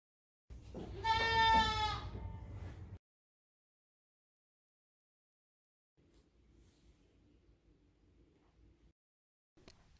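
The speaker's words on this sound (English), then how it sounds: "A sheep." A single loud, drawn-out sheep bleat about two seconds long, followed by silence and then a fainter, lower bleat-like sound from a farm animal.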